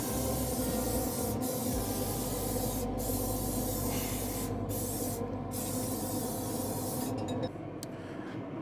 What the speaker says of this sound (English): I'm gonna spray my bottom grate.